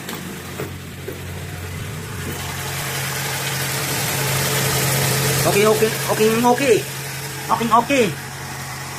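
A 2016 Hyundai Elantra engine starts and runs at a steady idle during an oil change, its rumble building slightly, while someone talks briefly over it near the end.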